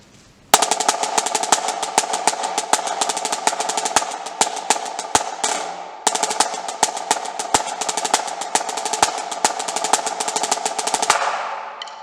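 Marching snare drum plays a fast, driving beat ending in continuous accented 5-stroke rolls, dense repeated strokes loud and close, with a brief gap midway before the pattern restarts.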